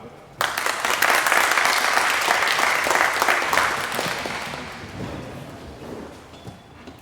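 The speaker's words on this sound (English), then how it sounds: "give a big applause" A conference crowd at the WHY 2025 hacker event breaks into applause. It starts suddenly, stays full and loud for a few seconds, then gradually thins and fades out.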